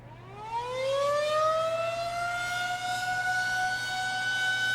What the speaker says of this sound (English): it sounded like sirens